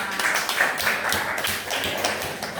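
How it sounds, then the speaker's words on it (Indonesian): An audience in a classroom or training session claps for a presenter, producing a steady, fairly close patter of many hands with no break throughout. "Tepuk tangan buat Bapak."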